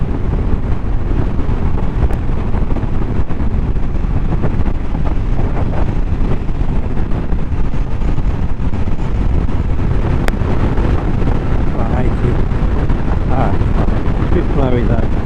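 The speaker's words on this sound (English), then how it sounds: "Blowing though, it is blowing. The wind is hitting me shoulders." Strong wind buffets a rider on a 2016 Honda VF touring motorcycle at 70 mph, a loud steady roar of wind noise over the microphone with the engine's drone underneath, continuous and unbroken for the whole stretch.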